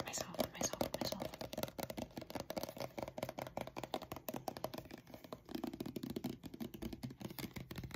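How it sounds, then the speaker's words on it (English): Hand sanitizer rubbed onto hands at close range, giving dense quick wet rubbing and crackling sounds that run steadily for several seconds, soft and intimate, with quiet whispering. "I'm just going to put some hand sanitizer on here, okay?"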